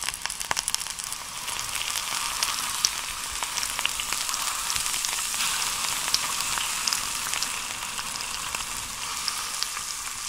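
Steady, dense sizzling crackles from a cooking pan, like frying, continuing evenly and fairly close throughout without any talking.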